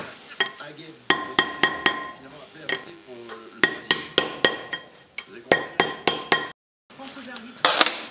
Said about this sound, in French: j'ai réchauffé ici la bague et en tapotant avec un burin, avec un chasse-goupille, j'ai réussi à le descendre